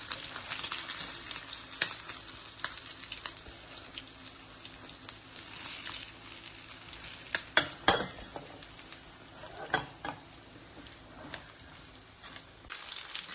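Fish frying in a pan on a gas stove, a faint continuous sizzle with scattered sharp clicks and scrapes from turning the pieces, quiet and close, with no talking.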